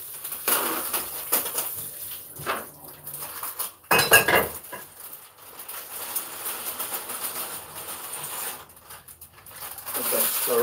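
A utensil scrapes and clinks around a pot of baked ziti, with scattered metallic knocks and rattles of cookware close by, mixed with light kitchen clatter.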